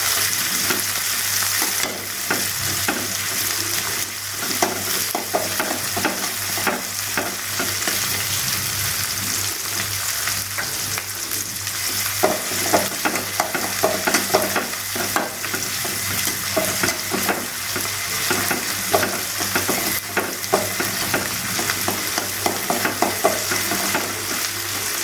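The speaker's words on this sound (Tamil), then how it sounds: "தக்காளியும் நல்லா வதங்கட்டும்." Tomatoes sauté in a pan for mutton kuzhambu, giving a steady, moderate sizzle with frequent short scrapes and taps of a stirring spoon, with no talking.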